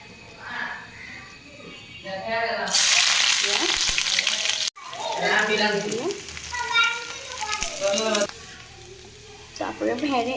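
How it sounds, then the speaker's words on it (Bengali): Sliced bitter gourd is fried plain in oil without turmeric, giving a loud, steady sizzle that surges partway through, while someone talks over much of it. "আমি করলাটা সাদা ভাজা করবো, মানে ভাজিটা সাদা করবো"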